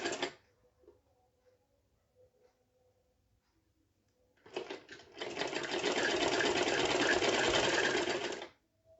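Sewing machine stitching along a folded hem on an umbrella frock; a brief burst at the start, a quiet pause, then a few stuttering stitches before a steady, loud, close run that stops abruptly.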